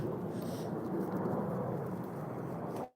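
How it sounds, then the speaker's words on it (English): A steady, low roar of an airplane passing overhead, broad and rumbling, holding constant before cutting off abruptly at the end. "I hear another plane."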